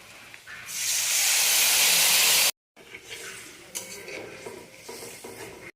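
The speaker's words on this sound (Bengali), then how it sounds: "দেখুন এটা আমি কষাচ্ছি" Spice paste of salt, turmeric, Kashmiri chilli, coriander and cumin powder sautéing with parshe fish and cauliflower, a loud hissing sizzle for about two seconds, then quieter stirring and pan scrapes.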